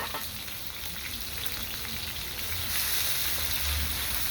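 Parboiled potatoes and leeks fry in a pan with a steady, dense sizzle that swells slightly partway through, with no talking.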